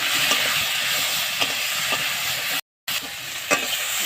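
Spices with ginger, chili, turmeric and tomato are fried and stirred in a pan, a loud constant sizzle with repeated spoon scrapes. There is a brief dropout partway through and no talk.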